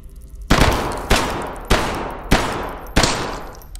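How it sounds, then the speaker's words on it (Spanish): Five sharp gunshots ring out in the video game Hidden Deep, evenly spaced about half a second apart. Each is a loud crack followed by a short reverberant tail, with no talk over them. "Le disparo por encima de las cajas."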